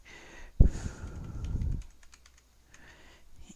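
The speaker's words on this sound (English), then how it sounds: "So I am just typing some information in" Computer keyboard typing while filling in customer details, a quick run of soft key clicks after one sharper tap, fairly close and quiet, with no talking.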